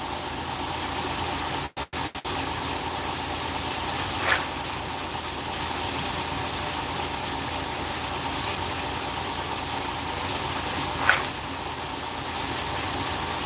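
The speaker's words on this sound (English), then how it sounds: "as soon as this air compressor goes off, we'll talk about how to order DTF" An air compressor runs steadily with a constant droning hiss and hum, holding even across the whole stretch, with a few brief dropouts and small clicks.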